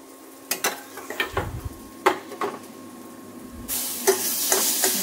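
Masala goes into a pan of fried onions: a few clinks and scrapes of a spoon against the pan, then a sudden louder hiss as the spices start frying, which continues to the end.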